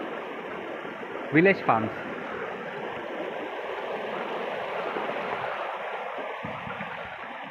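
Water rushes steadily beside farmland in a village, a constant broadband wash of a small waterfall or stream that holds at moderate loudness throughout, with a brief voice speaking early on.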